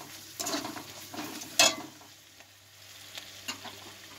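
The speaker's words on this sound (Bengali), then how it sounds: "আমার মশলাটা প্রায় কষা হয়ে এসেছে।" Spice masala for aloo dum fries in a pan, soft sizzling under light scraping and stirring, with a few sharper crackles and spatula taps, close and fairly quiet.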